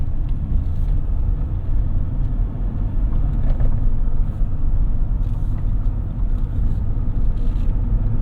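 Inside a 2022 Jeep Wrangler Unlimited Willys with knobby tires, a steady, loud low road rumble and tire drone fill the cabin throughout with only slight variation, and no one talks.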